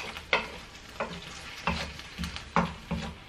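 Food stirred in a frying pan, a spatula scraping in six or so rhythmic strokes over a gentle sizzle, close and moderately loud.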